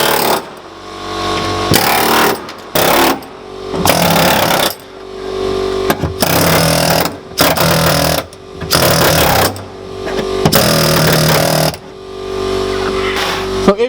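Pneumatic air hammer chiseling sound insulation off a car's body, firing in loud rapid bursts of hammering separated by short pauses, close and harsh, repeating about eight times.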